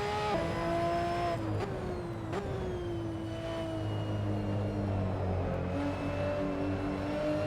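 Ferrari Challenge race car at Mugello in a racing game, its engine droning steadily with clear harmonic whine, pitch dipping and climbing through gear changes, loud and continuous with no talk.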